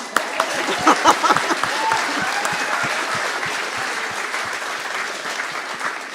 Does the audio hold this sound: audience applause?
yes